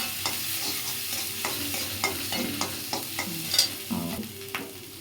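Green chillies stirred in a frying pan, a continuous sizzle broken by repeated rhythmic spatula scrapes close up, with no speech.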